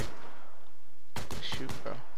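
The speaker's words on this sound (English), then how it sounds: "So we just got shot at." Gunfire in the battle-royale video game Last Man Standing: a quiet first second, then a cluster of several sharp, close shots in quick succession that fades near the end.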